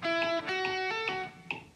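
Electric guitar playing a lick pickup, a quick run of bright picked and hammered notes lasting under two seconds, clean and alone with no talking.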